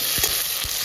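Ginger and garlic frying in a pan with hot oil give a steady, close sizzle, with a few short stirring scrapes along the way.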